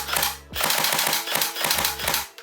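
An airsoft SCAR-H rifle fires in quick, loud, clanky bursts, several rapid mechanical shots in each string, separated by brief pauses, close to the listener.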